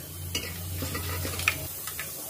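Mustard seeds, cumin, urad and chana dal and dried red chillies temper in a tablespoon of hot oil in a pan for vaangi bath, sizzling steadily up close with a few stirring scrapes and utensil clinks.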